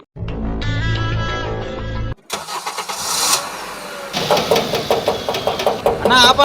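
A car engine is started after a loose bolt is tightened: a sustained tonal whine gives way after a short break to harsh cranking and rough, knocking engine noise, close and loud, with voices heard along with it.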